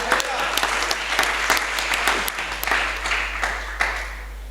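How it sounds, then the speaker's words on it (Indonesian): Church congregation applauding at a Sunday service, a steady wash of many hands clapping with scattered sharper claps, fairly close, fading slightly toward the end. "Berikan tepuk tangan sama Tuhan."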